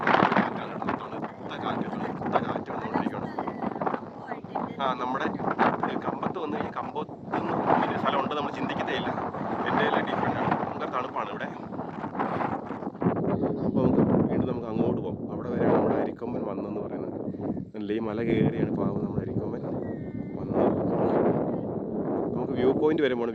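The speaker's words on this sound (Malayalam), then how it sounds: "ഭയങ്കര കാറ്റ് വന്നുകൊണ്ടിരിക്കുകയാണ്" Strong wind buffets the microphone on a tea estate hillside, a continuous roaring rumble that surges and dips, with a voice talking over it throughout.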